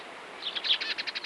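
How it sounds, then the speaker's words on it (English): Small songbird chirping, a quick series of about eight bright, evenly spaced chirps that grows louder and more distinct after a faint start, with no voices. "Chirp."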